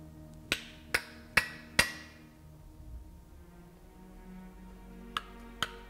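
A walnut wedge being driven into an axe handle with four quick, ringing hammer blows, then a pause and two lighter taps; close and crisp in a quiet room.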